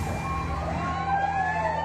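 A fire truck siren wails in rising and falling sweeps over a low engine rumble at a restaurant fire, fairly loud and continuous, with no voices.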